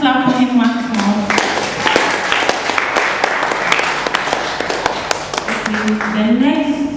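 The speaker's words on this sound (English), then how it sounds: "Let's clap for him once more." Audience applause for a performer at a multilingual school-style show, steady clapping filling the middle stretch while a voice speaks over it at the start and again at the end.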